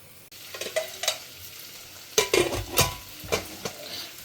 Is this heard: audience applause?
no